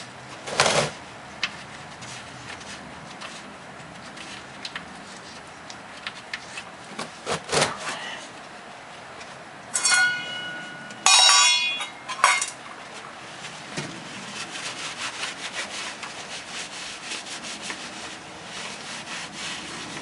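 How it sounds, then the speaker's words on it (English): A 15mm wrench working loose the oil drain nut on a 2014 Toyota Corolla, with scattered metallic clinks and scraping, a cluster of sharp clanks midway, then softer rubbing, close and without speech. "Here's our 15mm wrench and get this nut off."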